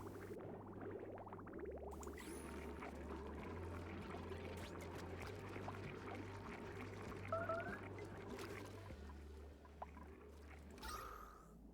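Water pours and trickles continuously in the game Oxygen Not Included, a steady liquid stream over low synth music, with a few small blips and clicks.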